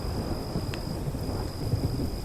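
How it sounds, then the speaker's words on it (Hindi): A thunderstorm brings strong wind and heavy rain: a thick, continuous hiss of downpour with low rumbling underneath, loud and unbroken for the whole moment, with no voices. "फिर अचानक तेज हवा के साथ मूसलाधार बारिश शुरू हो गई।"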